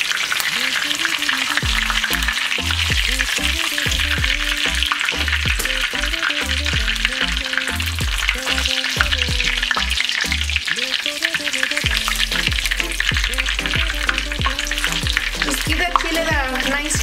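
Dried chiles dipped briefly into hot oil for birria, each side about a second: a loud, continuous sizzle and crackle with rhythmic low thumps and scrapes as pieces are turned, no voices.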